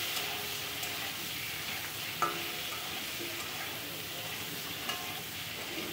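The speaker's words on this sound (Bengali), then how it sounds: "সব কিছু দিয়ে এবার কিন্তু আবারও একটু নেড়ে আমি সুন্দর করে ভেজে তুলে নেব।" Rohu fish frying in a pan with salt and turmeric, a steady bright sizzle throughout with two soft clinks of a spatula stirring, close and alone.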